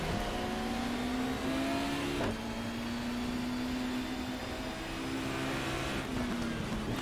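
Race cars from the 1994 British Touring Car Championship in GTR 2 brake into Paddock Hill Bend at Brands Hatch Indy. A steady engine drone dips in pitch as they slow, with a sharp transient partway through and no voices.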